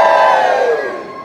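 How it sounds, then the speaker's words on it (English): Audience at a Teenage Mutant Ninja Turtles fan event in Wales cheers loudly and continuously, a dense crowd roar with shouted voices that fades slightly over a brief moment. "And now lots of cheering in the background."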